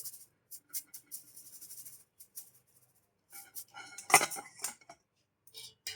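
Dry flattened rice (chira) rattles in a strainer as it is shaken, giving faint, sparse scratchy bursts and light clinks separated by brief quiet gaps.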